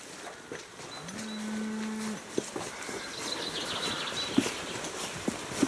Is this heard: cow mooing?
yes